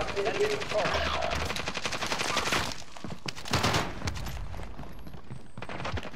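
Rapid automatic gunfire from Call of Duty: Modern Warfare in a quads match, sustained bursts and single shots crackling through the whole stretch, with excited players talking over the game sounds.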